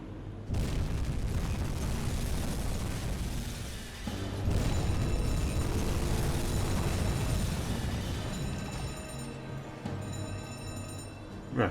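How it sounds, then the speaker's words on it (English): In the UBOAT submarine game, torpedoes strike a tanker and set off deep, rumbling explosions that swell into sustained booming roars, with a second blast surging in partway through before tapering off. "we got some explosions"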